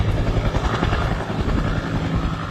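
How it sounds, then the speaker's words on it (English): Rescue helicopter at a landing zone, rotor and engine roar filling the scene loud and steady with rapid blade chop, no voices. "a sheepdog got to work quickly, moving a herd of goats away from the landing zone for a rescue helicopter"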